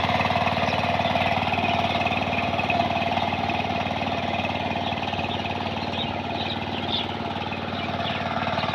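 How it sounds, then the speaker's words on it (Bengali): A Saifing 28-blade power tiller with a 25-horsepower engine ploughs a boro paddy field, its engine chugging loud and steady close by throughout, with faint bird chirps in the background. "এই গাড়িটার ইঞ্জিনও খুব শক্তিশালী ইঞ্জিন, 25 ঘোড়া সাইফিন রেড ওয়াটার ইঞ্জিন"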